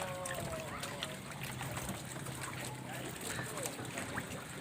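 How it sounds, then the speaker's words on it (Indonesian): Water laps and splashes gently around a small boat moving along, with a steady low background rumble and faint trickling. "naik perahu nih ya."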